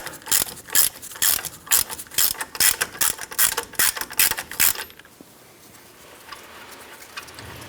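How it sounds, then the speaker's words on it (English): Ratchet clicking rapidly as it loosens a nut on the steering knuckle of a 1997-2006 Jeep Wrangler, a fast close run of ticks for about five seconds, then quiet shop ambience. "Now we just switched over to our ratchet."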